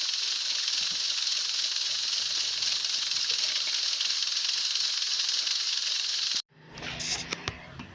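A pressure cooker cooking lentils with water releases a loud, steady hiss of steam for about six seconds, then cuts off abruptly, followed by faint kitchen clatter.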